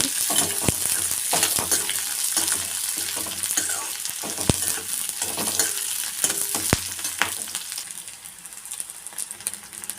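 Green chilies and three cloves of garlic sauté in a pan for a coconut-free roasted gram chutney, giving a steady close sizzle with sharp stirring clacks of a spoon against the pan throughout.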